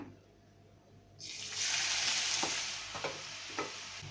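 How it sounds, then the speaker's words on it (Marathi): Red pumpkin pieces hit hot ghee with a sudden loud sizzle, a steady frying hiss that keeps going, with a few sharp spatters and clinks of stirring. "आता हे तूप आहे ना चांगलं गरम झालेलं आहे आता याच्यामध्ये आपण भोपळा घालूया"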